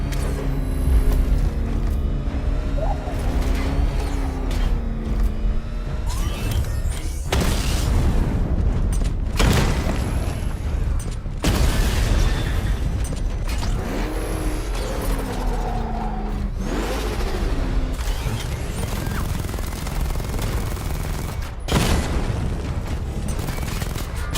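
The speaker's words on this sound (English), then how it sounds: "Destroy targets to charge up weapon energy and activate missile barrage." Weapons fire and explosions from a video game missile barrage, a dense, continuous wash of loud booms, bursts and mechanical clatter over the whole stretch, with a few sharper impacts and no talking.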